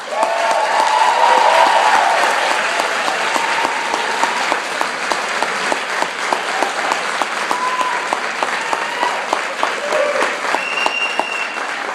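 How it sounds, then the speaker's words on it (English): Sustained applause from a crowd at an adult education graduation ceremony, steady and full throughout with light cheering mixed in. "I think that deserves another round of applause."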